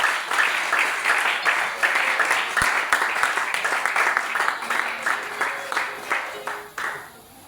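A church congregation applauding, sustained clapping in a dense rhythmic wash with voices mixed in, gradually thinning out toward the end.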